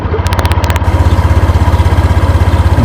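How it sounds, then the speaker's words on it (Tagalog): A Honda Click 125i V2 scooter, about 2.7 years old, idles with a steady, even low throb, close and loud, with a few light clicks near the start and no talking. "Para malaman nyo kung okay pa ba yung tunog ng makina."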